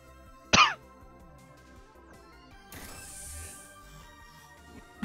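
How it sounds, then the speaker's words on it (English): A single sharp cough bursts out near the start, followed by quieter rustling and a brief noisy rush, with another abrupt sound at the very end. "Coughing fit, and then someone came in to talk."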